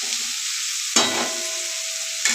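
Potatoes and peas frying with turmeric in a pan give a steady close sizzle, broken by two sharp bursts of louder crackling as something is stirred or added.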